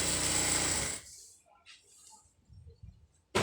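A sewing machine stitches a round-cut maxi dress in a loud, steady whirring burst for about a second, then falls quiet apart from faint handling noises and a brief final clatter.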